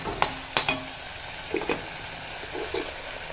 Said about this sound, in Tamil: சுருள சுருள வதக்கிக்கலாம்